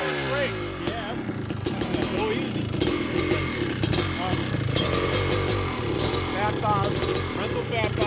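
A 1989 Honda CR500R motocross bike fitted with Ohlins fork and shock and a newer carburetor runs nearby with a raspy two-stroke drone and blips of throttle, heard under ongoing talk.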